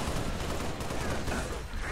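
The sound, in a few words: gunfire in the video game Halo Reach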